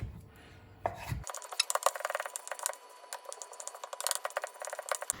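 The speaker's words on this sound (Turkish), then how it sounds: "küp küp doğramak için ikiye bölüyorum ki ince ince olsun" Rapid knife strokes chopping chicken breast tap against a cutting board in an uneven rhythm, close and crisp, after a brief murmur at the start.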